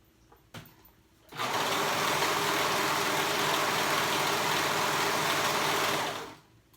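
Sewing machine stitching the waistband casing of a jumper, a steady, loud continuous whir for about five seconds after a brief click, then stopping.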